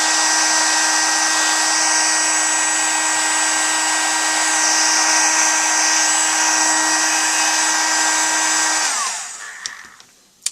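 Heat embossing tool blowing hot air, a loud, steady whining whir with a high-pitched hiss held for about nine seconds, then winding down and stopping, followed by a faint click.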